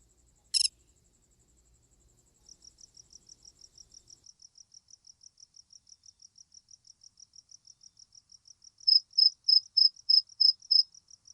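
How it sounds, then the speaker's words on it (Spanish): Cricket ambience loaded as a game sound effect: a steady, quiet stream of rapid chirps, joined later by a second, louder cricket pulsing in slower bursts. One short sharp click comes early, and there is no talk. "si quisiéramos, por ejemplo, combinar con otro sonido de grillos"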